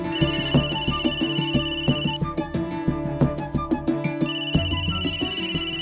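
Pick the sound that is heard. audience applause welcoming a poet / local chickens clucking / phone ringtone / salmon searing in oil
phone ringtone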